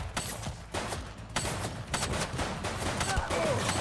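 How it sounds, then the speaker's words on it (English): Dense gunfire from the police video game The Precinct: rapid, overlapping shots and bursts cracking nonstop, loud and close, with faint game voices beneath. "He's shooting!"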